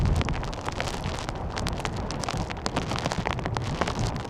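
Steady rain patters hard on surfaces while gusty wind buffets the microphone during a stormy coastal hike at the Seven Sisters cliffs in the UK, a dense, continuous wash of drops with no talking.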